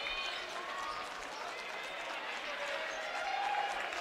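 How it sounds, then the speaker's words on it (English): Crowd at a men's college basketball game between Loras and University of Dubuque cheering and clapping in a gym, a broad steady roar with scattered applause heard from a distance under a commentator's voice. "Crowd in front of us getting into it"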